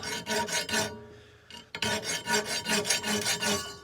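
A round file rasps back and forth, cutting a notch into an old steel file being forged into a Scottish dirk, with quick close strokes, a short gap, then more rhythmic filing.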